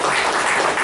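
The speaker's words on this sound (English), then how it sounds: "I just want to give Jessica a round of applause." Under a second of dense, loud clapping from a class of students at the end of a presenter's talk, a brief, uniform burst of applause.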